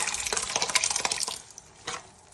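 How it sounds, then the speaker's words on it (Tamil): Dissolved goat blood poured into a pan for a Tamil blood fry, a short burst of liquid splashing and sloshing that fades, followed by a brief second splash. "ஸோ இப்போ பார்த்தீங்கன்னா கரைச்சி வச்ச அந்த ரத்தத்தை நம்ம ஊற்றலாம்."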